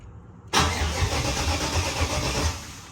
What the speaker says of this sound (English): it's cranking, so I'm gonna let y'all hear it crank